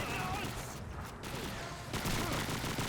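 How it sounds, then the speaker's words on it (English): PPSh-41 submachine gun fire in Call of Duty 2 rattles as a dense, continuous burst of rapid shots in a loud battle scene, with a narrator talking over it. "So you're seeing the PPSH-41 firing"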